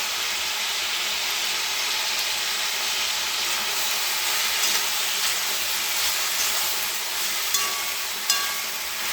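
Spices with salt and turmeric sauté in a hot pan, giving a steady, dense, close sizzle and hiss that holds for the whole stretch, with a few faint clicks of stirring near the end.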